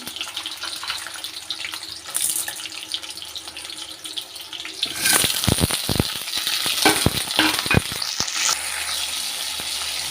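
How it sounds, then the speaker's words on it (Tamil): Dried red chillies, onion and tomato for a chutney sautéing in a pan, a faint hiss that turns into loud, close sizzling with scraping and stirring about halfway through. "எல்லாமே ஒன்றா போட்டு அப்படியே வதக்கிடலாம்"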